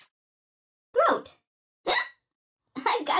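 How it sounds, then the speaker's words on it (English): Three short hiccup-like bursts from a person, spaced about a second apart, loud and close with silence between them, during a mobile word-spelling game. "I got the hiccups."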